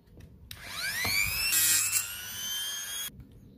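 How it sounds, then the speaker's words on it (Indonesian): A handheld angle grinder spins up to a high whine and cuts into metal gear parts, with a brief sharper grinding burst mid-cut, then winds down after about three seconds, with no one talking. "Nah, saya pakai gerinda tangan yang tadi."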